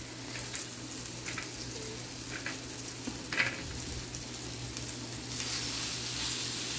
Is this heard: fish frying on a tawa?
yes